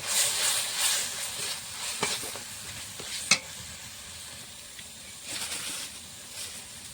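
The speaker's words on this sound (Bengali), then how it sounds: "মশলাটা কষানো হচ্ছে।" Spice paste sautéing in oil in a pan, a low steady sizzle broken by a few scraping spoon strokes and one sharp clink midway, close and fairly quiet, no speech.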